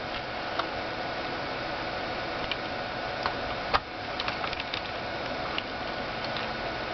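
Screws are driven into the hard drive bay of a Dell E6500 laptop, giving faint, steady ratcheting ticks and small clicks with one sharper snap midway, quiet and close against low background hiss.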